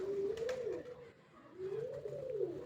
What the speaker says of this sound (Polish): On ma dużo gołębi ode mnie.